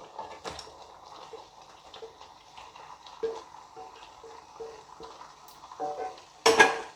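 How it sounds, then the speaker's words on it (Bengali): Butter-fried paneer cubes go into a thick gravy for restaurant-style paneer butter masala and are stirred. Soft, repeated scrapes and gentle frying come from close by, ending in a louder clattering burst. "এবার আমি এর মধ্যে মাখনে ভেজে রাখা যে পনিরগুলো ছিল কিউব আকারে কাটা, সেই পনিরগুলোকে এর মধ্যে দিয়ে দিচ্ছি।"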